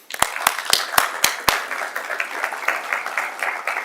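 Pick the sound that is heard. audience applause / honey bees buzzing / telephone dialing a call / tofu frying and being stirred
audience applause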